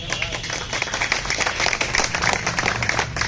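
Light audience clapping at a protest gathering, a dense, fairly soft patter of many hands that goes on steadily throughout.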